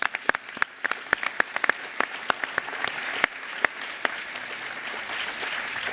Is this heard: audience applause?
yes